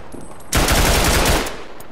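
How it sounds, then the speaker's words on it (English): Machine gun suppressive fire in the WWI shooter game Tannenberg: a loud, dense sustained burst of rapid automatic gunfire lasting about a second, then tailing off into background battle ambience. "Let's fire the machine gun."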